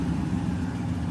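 A GMC Denali truck with newly fitted American Racing headers and a dual exhaust idles after startup, a steady deep rumble with a throbbing low-end pulse, close and loud.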